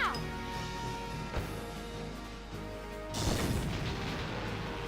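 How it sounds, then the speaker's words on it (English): A grenade bursts in Valkyria Chronicles with one heavy, crackling blast late on, and a smaller thud comes a few seconds earlier, all over a steady game music bed. "Now let's try a grenade on him."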